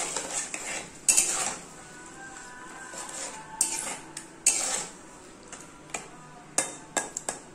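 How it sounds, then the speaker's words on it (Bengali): A spoon clinks and scrapes around a metal pan while onion paste, green chillies and a splash of water are stirred into a masala, with repeated sharp taps over a faint background sizzle. "ভালো করে নেড়ে নিই।"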